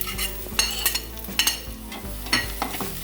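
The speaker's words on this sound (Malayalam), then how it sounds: "അത് നമ്മളൊന്ന് ചെറുതായിട്ട് ഇളക്കി കൊടുക്കുക." Garlic being stirred in a frying pan, a utensil scraping the pan in several close strokes over a steady hiss of sizzling oil, with no one talking.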